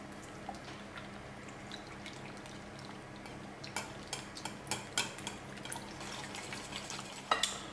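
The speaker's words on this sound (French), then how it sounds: "Et on va détendre avec un fouet" A wire whisk beats whole milk in a bowl, light metallic clicks and tapping against the sides that grow quicker and more pronounced midway, close and fairly quiet.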